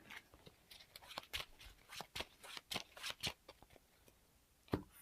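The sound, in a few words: shuffling playing cards into the encounter deck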